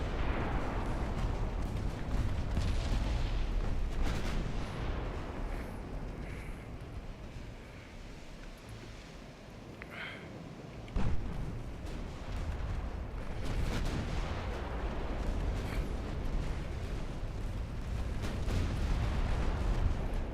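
Naval guns fire in the warship strategy game Ultimate Admiral Dreadnoughts, a dense run of heavy booms and rumbling blasts layered over a continuous battle roar, with one sharp loud report near the middle.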